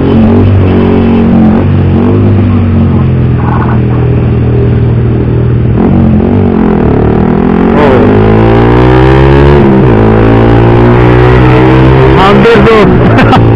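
Pantura road traffic comes in through an open car window: a steady, loud engine and road rumble with vehicles passing and revving close by, and people talking over it throughout.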